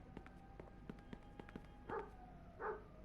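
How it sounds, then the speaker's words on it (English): Two short, muffled dog barks sound in the video game Mafia II, spaced under a second apart against a quiet background of light footsteps or ticking. "that dog sounds unhappy"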